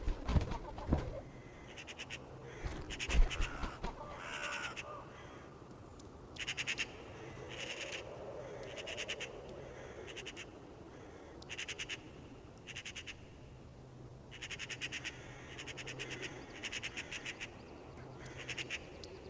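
Crow chicks give repeated harsh, raspy calls in short bursts, fairly faint against a quiet outdoor background.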